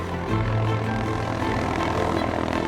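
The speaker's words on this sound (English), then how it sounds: "The Tiano helicopter's machine arrives right on schedule" A model 500 helicopter arriving in Fiordland wilderness, a loud steady rotor and engine drone with no break across the short stretch.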